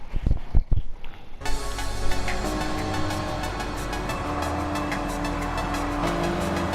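Race cars in a 640-category video game race, as a dense, continuous engine roar from several cars running close together, loud and sustained after a few thumps at the start.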